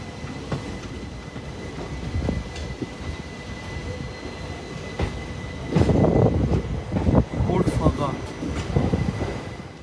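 The Leelan SF Express overnight train from Bikaner to Jaisalmer rumbles along the rails with rhythmic clacking and rattling, growing louder midway, with faint voices in the background.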